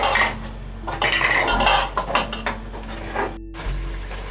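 Masala being sautéed for qeema and whole masoor dal, heard as loud metallic scraping and clanking of a spoon against the pan in quick irregular strokes, close by.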